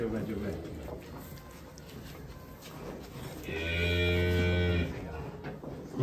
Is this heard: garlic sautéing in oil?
no